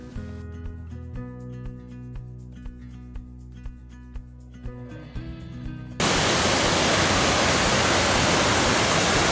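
Flowing water of the Trois-Pistoles river rushes in as a loud, steady, unbroken wash, cutting in abruptly after a sustained humming tonal passage.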